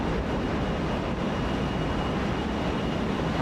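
JustFlight Fokker F28 Fellowship jet engines in Microsoft Flight Simulator, a steady loud broadband roar at cruise power over the English Channel, unbroken and alone.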